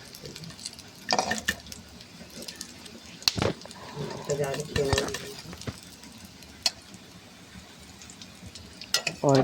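Food fries in a small amount of oil with a soft sizzle, scattered stirring clatters and drips, mostly beneath a person talking.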